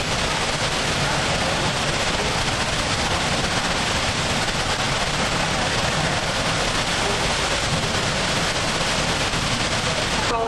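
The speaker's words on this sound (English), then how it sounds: "Immediately behind the falls, this is what you hear and see." A steady, loud broadband roar of a waterfall, heard from directly behind the falling water, fills the whole stretch without pause.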